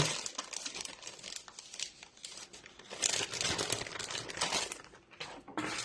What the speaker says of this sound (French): Ensuite, on va prendre du ruban adhésif.